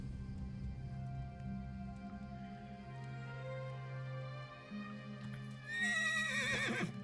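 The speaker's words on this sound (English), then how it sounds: "And now we've got a horse." A horse neighs loudly in Elder Scrolls Online, a long whinny rising near the end over steady ambient game music and background hum.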